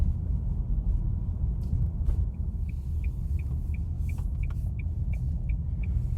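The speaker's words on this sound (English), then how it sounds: "the car I'm driving is a Nissan Leaf" A Nissan Leaf electric car drives along with a constant low road and tyre rumble, and faint, evenly spaced ticks sound over it.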